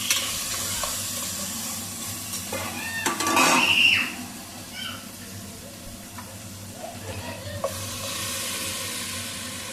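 Masala for country chicken curry sizzles in a pan, with spoon scraping and clinking against the metal and a louder burst of stirring midway.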